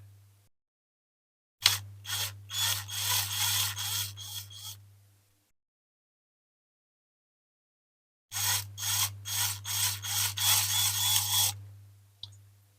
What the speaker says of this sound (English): we'll just get a drill on that